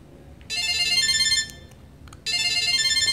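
A bright electronic ringing tone from a Samsung Galaxy SmartTag tracker, two bursts of warbling chirps separated by a short pause, close and fairly loud.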